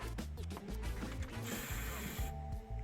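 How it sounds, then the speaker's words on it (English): A ratchet wrench works 10mm bolts off the radiator bracket of a Chevy Trailblazer in rapid repeated clicks, followed by a short rattle and metallic scraping, close to the work. "let's remove those 10mm bolts that hold the radiator bracket to the body"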